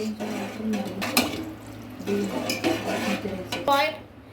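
A spoon scraping and clanking against a metal pot while stirring a chicken biryani mixture, with irregular knocks and wet shuffling close by, no speech.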